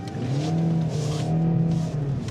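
A 200-horsepower car engine revs loudly and steadily while drifting on a Haldex all-wheel-drive system, its pitch rising and falling in waves with faint tire noise underneath.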